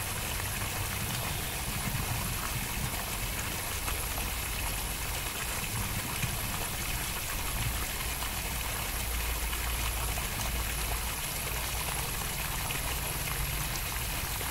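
Water flows steadily to irrigate a cauliflower seedling nursery, a continuous broadband rush with a low engine-like hum beneath it, no talk.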